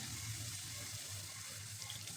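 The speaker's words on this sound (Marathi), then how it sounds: "त्यामध्ये घालायचे पाणी" Steady running water splashes continuously at low level, a constant stream filling a pot of soaked lentils with no voices.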